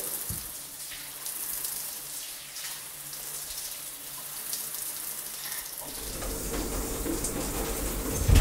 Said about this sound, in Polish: Jazda z zimną wodą.